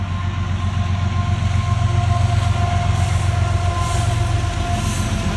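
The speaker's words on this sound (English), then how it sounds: "wait for a train to go by" A train rumbles past close by, a loud continuous roar of rolling wagons with a steady low hum throughout.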